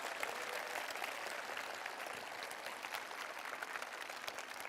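Faint, steady applause from a talk-concert audience, continuous clapping heard from a distance throughout.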